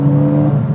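A 2014 Ford Fiesta ST, a small front-wheel-drive hatch fitted with a Cobb Stage 3 power upgrade, holds a loud, steady engine drone with a strong low harmonic hum, heard close and alone without voices.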